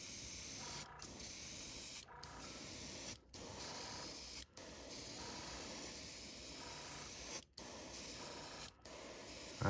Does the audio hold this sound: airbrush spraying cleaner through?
yes